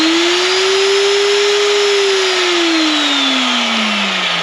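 A VEVOR magnetic drill press motor runs at high speed, a loud steady whine holding pitch, then sagging slightly toward the end, with no talking.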